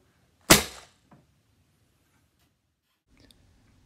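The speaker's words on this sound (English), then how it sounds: "Okay, firing in three, two." A homemade paintball gun combined with a Nerf blaster fires once: a single sharp, close pop followed by a faint click, then quiet.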